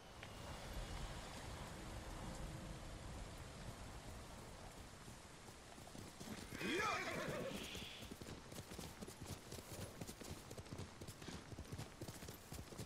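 Horse in Ghost of Tsushima whinnying once loudly midway through a steady run of hoof clip-clops, over a constant rain-like wash of game ambience.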